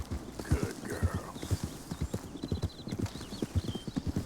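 A wild horse in Red Dead Redemption II clip-clops at a steady walking rhythm, hooves thudding clearly and evenly with a faint whinny early on.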